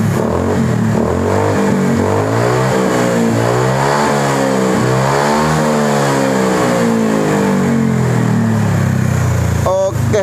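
A Honda PCX 160 scooter fitted with a racing exhaust revs indoors, a loud continuous engine drone rising and falling in pitch across repeated throttle blips, with a boomy room echo and no talking.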